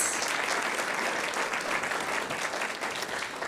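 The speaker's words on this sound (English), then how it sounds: "If you could give her an applause for leading out this event." Steady applause from an audience at a university graduate research presentation competition, a dense even wash of clapping held at moderate volume throughout, slightly distant, with no talk over it.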